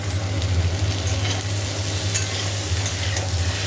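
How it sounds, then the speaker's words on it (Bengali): Tomatoes and ginger sizzle loudly in hot oil with a constant crackling hiss, punctuated by occasional stirring scrapes of a utensil in the pan. "এর মধ্যে টমেটো দিয়ে দেবো, একটু ভাজা হোক"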